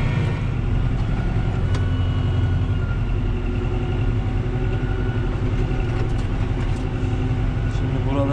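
A Massey Ferguson 5440 tractor clears deep snow from a village road without chains, its steady diesel drone and low rumble constant and loud throughout, with no other sounds rising above it.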